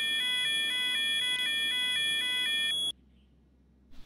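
A GTA 5 modded fire alarm blares its rapid, repeating two-tone electronic pulse, then cuts off abruptly after about three seconds, leaving near silence.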